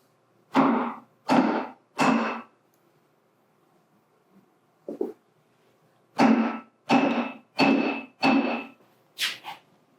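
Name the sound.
hitting a block of wood evenly to seat a part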